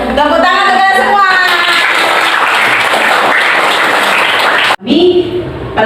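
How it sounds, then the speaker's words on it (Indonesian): Classroom applause from students cheering their discussion groups, a dense wash of clapping that follows a teacher's voice and runs several seconds before cutting off, then talk resumes. "Tepuk tangan untuk kalian semua."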